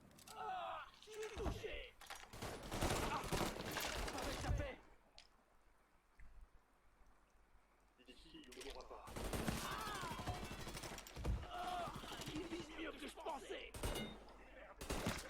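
Gunfire in the video game Mafia 3 erupts in dense bursts at the start and again later, loud and close, mixed with game sounds and someone talking over it.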